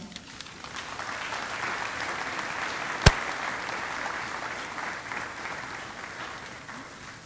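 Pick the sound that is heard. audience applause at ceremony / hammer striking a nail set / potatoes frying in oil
audience applause at ceremony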